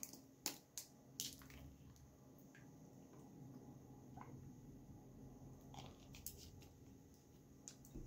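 Someone eats a turkey sandwich with a pickle at close range, with a few sharp crunchy bites early on and soft, quiet chewing and squishing sounds between them. No one talks.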